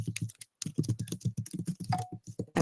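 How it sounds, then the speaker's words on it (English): Brisk typing on a computer keyboard, a quick uneven patter of close key clicks with one short pause, fairly quiet. "I'm sorry for the typing"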